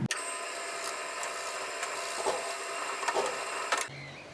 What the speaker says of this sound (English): Pre-drilling the spacers.